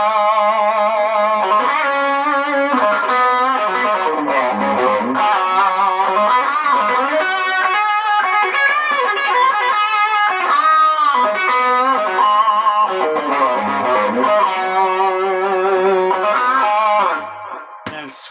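An electric guitar played through stacked Timmy and TS9 overdrive pedals gives a loud, continuous, distorted tone. Chords and notes ring out for about seventeen seconds, then stop abruptly.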